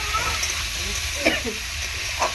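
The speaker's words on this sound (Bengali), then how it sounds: "এরকমভাবে কষিয়ে নেব আলুটাকে প্রথমে 2 থেকে 3 মিনিট" Potatoes being sautéed in a pan for a fish curry with elephant-foot yam give off a steady frying sizzle and hiss, with a few soft stirring scrapes heard close.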